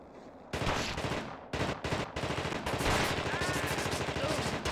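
Rapid bursts of automatic gunfire from the video game The Thing, loud and dense, rattling in continuous volleys with brief gaps, with no talking.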